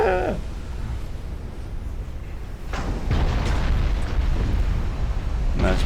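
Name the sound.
warship turret exploding in naval video game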